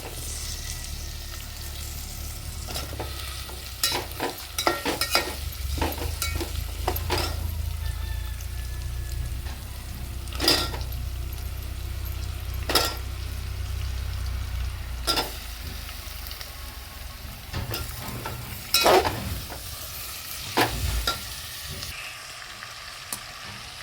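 Vegetables frying and being stirred in a pan for a village-style veg biryani, with coconut, chilli, garlic, coriander and ginger; a steady close sizzle runs throughout, broken by repeated scraping stir strokes and occasional knocks, with no talking.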